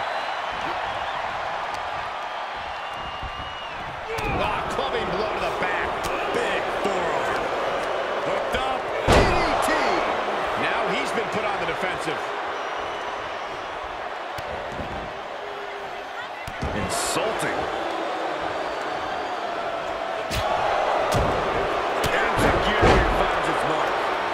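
Wrestling moves in the WWE 2K23 video game, with a DDT among them, land as repeated heavy slams and thuds over a constant arena crowd roar, while commentators talk throughout.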